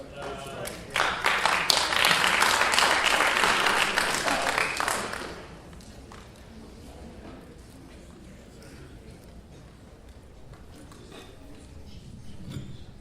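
Audience applause at a town board meeting in Windsor, New York, during public comment on fracking: a dense burst of clapping for about four seconds, then it fades into quieter room noise and murmuring.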